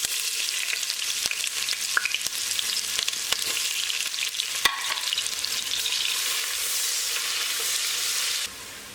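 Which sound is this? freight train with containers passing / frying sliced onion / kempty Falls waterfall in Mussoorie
frying sliced onion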